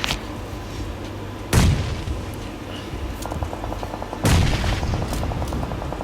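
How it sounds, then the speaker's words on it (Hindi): Bombardment and gunfire in a shooting video game: two heavy, booming blasts a few seconds apart, with a rapid burst of shots and a low rumbling battle backdrop between them; no speech. "चल रही होती है बमबारी वाली, खतरनाक वाली"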